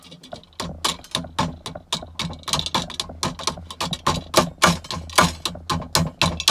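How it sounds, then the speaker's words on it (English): Rapid, irregular metallic tapping, many light hammer strikes on a copper heat exchanger in quick succession, close up and sharp, with no talking. "Look at him being delicate with his hammer."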